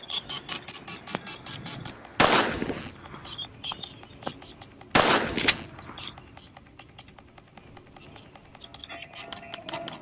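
Two loud bursts of gunfire from the Granny Chapter 2 horror video game ring out a few seconds apart, each a harsh, broadband blast. Between them comes a rapid ticking patter, and soft speech runs through the clip.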